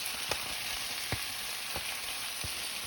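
Beans and mixed vegetables hit a hot pan of golden-browned tofu and stir-fry with a steady sizzle, broken by a few soft spatula knocks spaced about a second apart.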